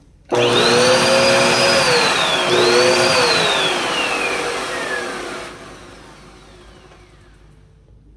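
A secondhand Goodwill vacuum cleaner, clogged and with an off-sounding motor, switches on abruptly and whines loudly and close, its pitch rising, dipping, climbing again, then sagging as the drone settles and quiets.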